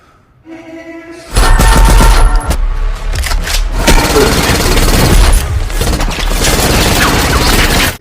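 Loud, dense burst of film gunfire in a gangster action scene, a rapid barrage of shots and booms after a brief quieter lead-in, continuing steadily for several seconds.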